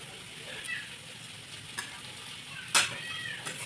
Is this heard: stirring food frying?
yes